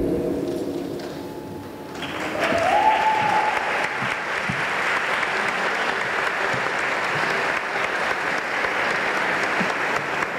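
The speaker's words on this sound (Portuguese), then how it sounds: "mais uma salva de palmas, muito obrigado" Sustained audience applause at a corporate awards ceremony, the Best Companies Award 2017, swelling after a brief quieter opening and continuing steadily as a dense, even wash of clapping from a large room.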